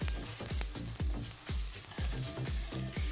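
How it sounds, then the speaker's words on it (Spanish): Onion and bell pepper frying in a pan, with a steady broadband sizzle broken by repeated low thumps and scrapes of stirring, close and fairly loud throughout. "Y vamos con la cebolla y el morrón."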